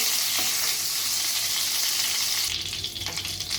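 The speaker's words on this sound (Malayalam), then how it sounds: "ചൂടായ പാനിലേക്ക് നമുക്ക് ബട്ടർ ഇട്ട് കൊടുക്കാം" Butter melting in a hot pan for a creamy mushroom soup, a steady close sizzle and crackle of frying fat that carries on without pause and picks up slightly toward the end, with no one talking.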